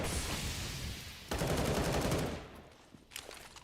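Gunfire and a grenade blast ring out in Counter-Strike: Global Offensive during a professional Astralis versus Natus Vincere match on the Nuke map, with dense rattling shots followed by a sharp burst and fading crackles, loud and close.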